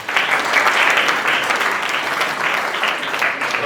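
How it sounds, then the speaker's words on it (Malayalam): An indoor audience bursts into steady applause, many hands clapping together in a dense, continuous patter that holds for several seconds without talk. "ഒന്ന് ക്ലാപ്പ് ചെയ്തേ."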